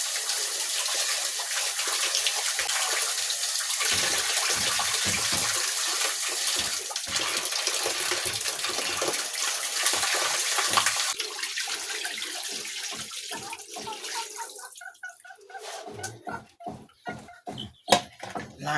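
A bird is washed in running water before grilling, with a steady close splashing rush of water that gives way to intermittent splashes and knocks toward the end.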